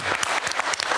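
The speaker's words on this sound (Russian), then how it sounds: "Аплодисменты" Studio audience applause during a Russian television talk show on snoring treatment, a dense, steady burst of many hands clapping throughout, close and fairly loud.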